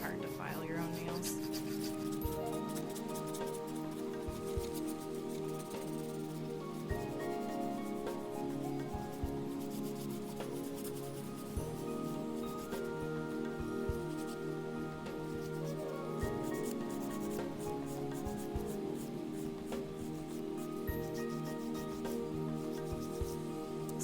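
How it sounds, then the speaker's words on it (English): A nail file rasps steadily back and forth against acrylic nails, a close, continuous gritty rubbing stroke repeated throughout at a fairly even rhythm. "It's hard to file your own nails."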